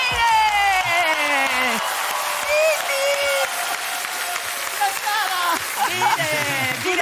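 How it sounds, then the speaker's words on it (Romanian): A studio audience at a Romanian television show applauds for actress Adriana Trandafir, dense steady clapping filling the room with music and voices over it throughout. "haideți să primim cu un rând puternic de aplauze pe Adriana Trandafir"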